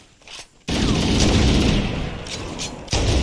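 Loud, sustained gunfire from a Halo CE multiplayer match erupts after a short quiet stretch, a dense continuous burst that briefly drops away and resumes near the end, with no talk.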